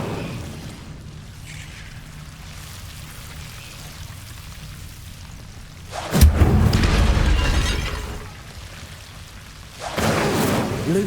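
Incendio fire spells from the game Hogwarts Legacy burst out in two loud whooshing blasts, one near the middle and one close to the end, over a low rumbling magical ambience.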